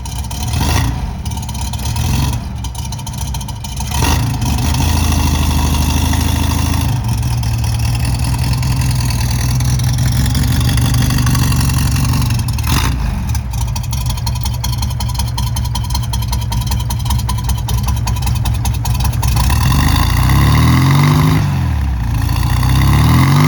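A 1965 Volkswagen Beetle fitted with an electric fuel pump cranks with a few sputtering bursts, then catches and runs in a loud, steady air-cooled idle, with a revving rise near the end.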